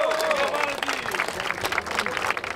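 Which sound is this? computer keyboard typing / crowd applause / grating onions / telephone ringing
crowd applause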